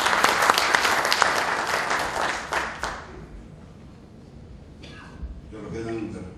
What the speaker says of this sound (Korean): 열심히 해주시라는 박수 부탁드리겠습니다